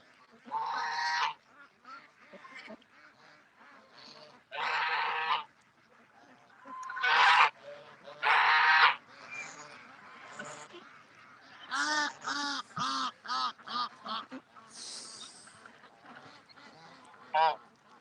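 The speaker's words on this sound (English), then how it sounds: "this little goose is sticking real close to me" Goose honking close by in a duck pen during morning cleaning, with loud repeated honks in bursts, some clustered rapid calls, over a quiet background with other fowl.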